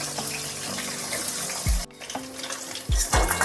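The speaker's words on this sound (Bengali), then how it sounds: "বাকি মাছগুলো মানে বাকি ইলিশ মাছের মাথাগুলোকেও একইভাবে তেলের মধ্যে দিয়ে দিলাম" Hilsa fish heads frying in hot oil, a steady close hiss and sizzle with a few low knocks of utensils, no voices.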